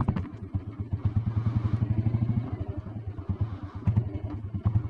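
An old blue Royal Enfield Bullet Deluxe single-cylinder with self start thumps at idle nearby, a steady rapid chug with clattery mechanical ticking and slight rises in revs, no voices.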